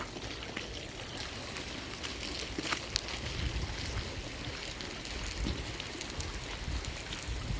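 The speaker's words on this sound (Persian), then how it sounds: "این بارون" Steady rain falls in a wintry storm, a dense, even hiss of drops and runoff that stays constant throughout with no voices.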